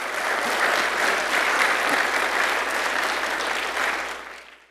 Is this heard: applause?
yes